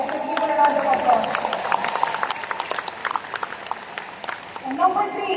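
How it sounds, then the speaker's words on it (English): Audience applause at a business motivational talk, a continuous patter of clapping with scattered sharper claps, mixed with crowd voices and talk. "Let's give her a round of applause."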